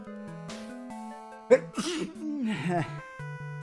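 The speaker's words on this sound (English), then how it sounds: "I need to sneeze." A single sharp sneeze bursts out mid-clip over a backdrop of electronic music tones, followed by some vocal sounds.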